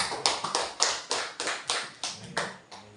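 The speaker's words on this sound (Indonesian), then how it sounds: "Tepuk tangan untuk Pak Tadin." A small audience at a school or village presentation claps in a brief, sparse round of about nine distinct hand claps, close and fairly faint.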